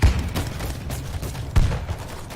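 Bursts of gunfire and explosive thuds in the video game World War Z, two heavier booms among rapid popping shots, loud and close.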